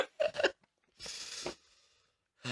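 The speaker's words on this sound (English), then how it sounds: "Oh, hiccups." Hiccups from a person in a room: a few sharp, abrupt bursts, with two quick ones at the start, a longer breathy one in the middle and another at the end, separated by silence.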